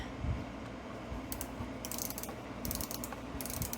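Mechanical ratcheting of a screwdriver working a bolt on a Singer 201-2 sewing machine, close, with short bursts of rapid clicking in uneven spurts and no voices.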